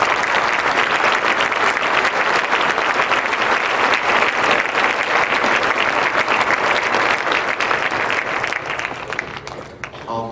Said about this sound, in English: So if the 5 of you could stand up and get an extra round of applause.